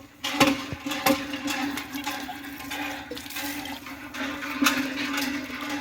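Water from a borewell near a temple runs and gushes steadily, with a low rushing hum and occasional splashes.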